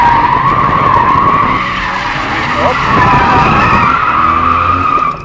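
A BMW X3M drifts on a track, tires skidding and screeching loudly and continuously over a steady engine roar, close and sustained throughout.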